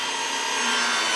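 Chop saw cutting through wood, running off a Jackery Solar Generator 2000 Plus at an off-grid tiny house build; a steady, loud, continuous broadband blade rasp with no pauses.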